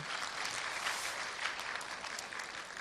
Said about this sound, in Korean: 박수 한번 주셔야죠